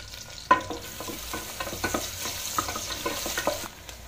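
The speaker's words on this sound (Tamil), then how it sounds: "சின்ன வெங்காயம் சேர்த்துக்கோங்க. இதை இப்போ நல்லா வதங்கட்டும்." Small shallots and fennel sautéing in hot oil, a soft crackle broken by repeated scraping stirs of a utensil in the pan, close and fairly quiet with no voice.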